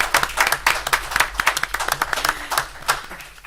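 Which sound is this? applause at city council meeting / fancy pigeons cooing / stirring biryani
applause at city council meeting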